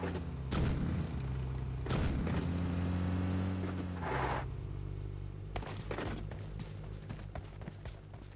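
Gunfire in the mobile battle-royale game PUBG Lite, with S12K and M416 rifles: several heavy, booming shots at uneven intervals over a steady droning hum, medium-far and fairly loud.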